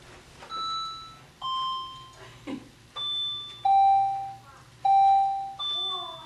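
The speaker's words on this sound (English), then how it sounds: "Okay, ring the bell." A bell rings on a theater stage during a children's play performance, struck in a series of clear, ringing tones with pauses between them, fairly close and loud over a faint low hum.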